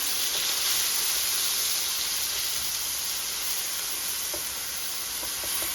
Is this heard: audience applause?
no